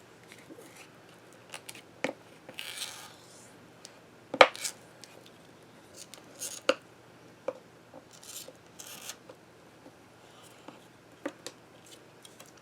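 A bone folder is rubbed and pressed along a fold in a clear Dura-Lar plastic sheet, making close, dry scraping rasps and small sharp ticks, sporadic and quiet with pauses between strokes.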